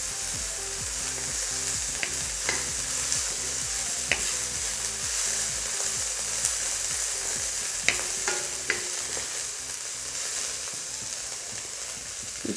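Steady, close sizzling of browned onions and cabbage frying in a pan, an even hiss broken by a few faint clicks from stirring, with no voices.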